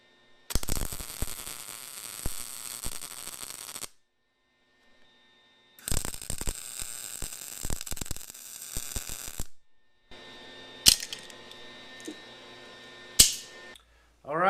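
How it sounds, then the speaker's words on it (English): Arc welding on a wood splitter, with bursts of steady buzzing crackle lasting several seconds each, separated by brief silences and a few sharp clicks and pops near the end. "Alright, the welding's done."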